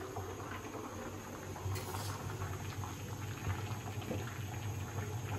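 Potatoes boil in a covered pot, giving a steady low bubbling and soft pattering simmer that stays quiet and constant from start to end.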